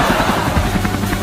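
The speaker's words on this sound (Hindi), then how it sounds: "हम इतने बड़े हेलीकॉप्टर से उड़ रहे हैं" Cartoon helicopter flying, a steady loud whirring drone that fills the whole short clip with no talk over it.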